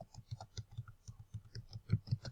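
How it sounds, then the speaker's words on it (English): Computer keyboard keys tapped in a steady run of quiet clicks while entering text for an online banking report, close and clear with no talking. "So type in the benefits"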